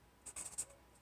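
A pen or marker scratches out a formula in a short burst of quick strokes lasting under a second, faint and close, with no voice.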